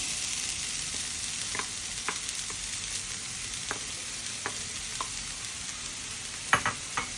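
Carrot and beetroot sautéing in a pan over a medium flame for a Kerala-style beetroot thoran, a steady soft sizzle broken by occasional stirring clicks and scrapes, close and quiet.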